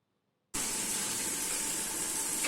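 Chopped tomatoes dropped into hot oil in a pan for a Tamil-style chokoli dish, bursting into a loud, steady sizzle after a half-second of silence and hissing evenly to the end.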